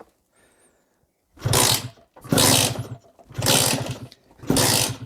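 A 2008 MBK X-Limit enduro motorcycle under restoration is kicked over again and again, its small engine catching in four loud, rough bursts of revving, each separated by brief pauses, with no talk over it.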